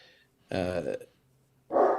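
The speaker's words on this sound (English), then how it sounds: "my dog wants to bark" A dog gives two short, loud barks about a second apart, close by, during a conversation.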